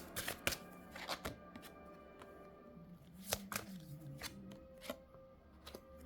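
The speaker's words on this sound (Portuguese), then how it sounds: "Vamos tirar todas as cartas." Cards being drawn and shuffled for a reading, giving irregular riffling bursts and snapping handling noises at close range. No one speaks.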